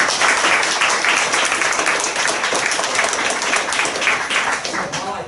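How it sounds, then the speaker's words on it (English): An audience claps in a dense, sustained patter lasting several seconds, with some talk underneath. "you were clapping"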